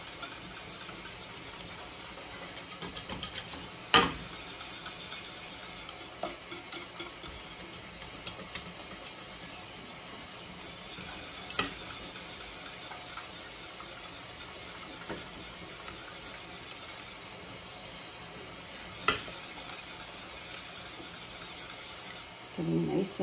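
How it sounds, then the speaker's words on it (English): Steady rubbing and scraping of a whisk stirring thick apple pie filling in a pot, a continuous low rasp with a few sharper knocks against the pot, heard close and without talk. "You do want to continue whisking so it doesn't stick to the bottom"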